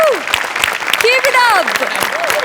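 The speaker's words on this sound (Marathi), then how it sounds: "सावत्यासाठी एकदा टाळ्या वाजल्या." A live studio audience at a comedy show claps steadily as a dense burst of applause, while voices whoop and call out loudly over the clapping.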